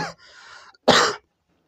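A person coughs twice, close up: a short cough with a raspy tail, a pause, then a sharper, louder cough.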